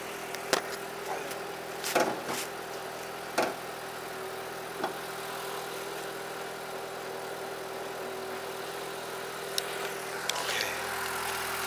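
A quiet Renault Twingo RS four-cylinder, four-stroke engine idles steadily with a faint hum, broken by a few sharp knocks and clicks nearby.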